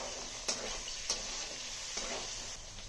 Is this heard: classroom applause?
no